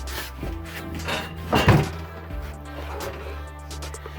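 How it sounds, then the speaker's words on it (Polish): Two wooden wardrobe doors in a Hymer camper van swing open one after another, each with a soft thunk and creak over a faint hum. "Raz drzwi i drugi raz drzwi się otwiera"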